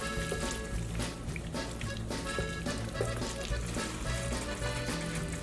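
Ground meat and melted cheese cooking together in a pan for chili con queso, a steady close sizzle and bubbling that runs continuously, with no talking.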